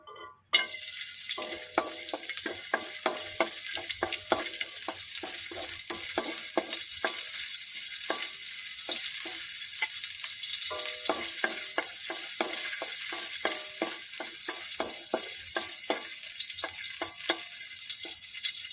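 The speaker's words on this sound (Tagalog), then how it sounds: "So, lagay na po natin yung ating luya." Ginger sizzles and fries in a hot pan, a steady bright crackle broken by frequent stirring clicks and scrapes, close and continuous with no talking.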